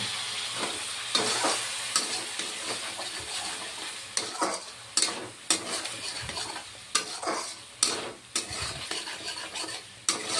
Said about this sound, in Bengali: এখন ভেজে রাখা আলুগুলিও দিয়ে দিচ্ছি, আর সামান্য জল দিয়ে দিচ্ছি।